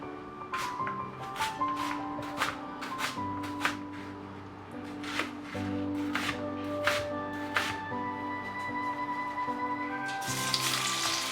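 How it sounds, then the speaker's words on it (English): Onion and curry leaves frying in a mix of oil and ghee give a soft, steady sizzle. Sharp clinks and taps of a utensil break in repeatedly, and a louder hiss swells near the end. "I fry the onion along with some curry leaves to flavor the onion and the oil ghee mix"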